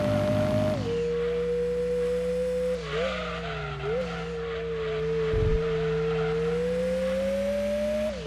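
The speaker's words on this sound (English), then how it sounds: "It is possibly the worst car sound that I have heard in years." Harsh engine drone from a car in Gran Turismo 2 on PS1, a steady buzzing tone that dips and wavers as the revs shift, loud and close throughout with no talking.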